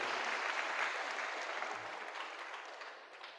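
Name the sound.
audience applauding at a seminar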